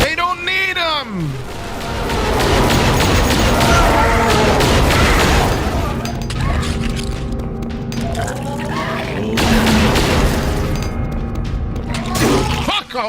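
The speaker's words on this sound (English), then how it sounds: "Who gave the Octobrains machine guns?" Octobrain aliens fire machine guns in a modded Duke Nukem shooter, rapid rattling bursts and booming thuds piling up loudly, with voices and game effects over the top.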